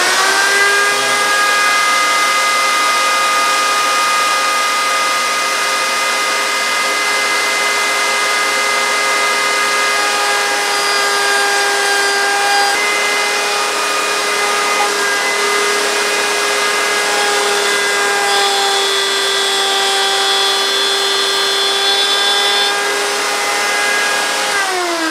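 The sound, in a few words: router on a router table cutting wood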